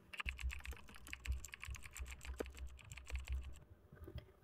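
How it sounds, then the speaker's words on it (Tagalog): Rapid keyboard typing used as a sound effect in a video edit: a steady stream of crisp key clicks that stops abruptly just before the end. "Wala na po nakasulat pero tumutunog pa rin yung typing keyboard."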